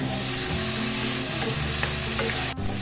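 Onion and tomato sautéing in a pan for sinigang, a loud, dense, continuous sizzle up close with a brief clack near the end.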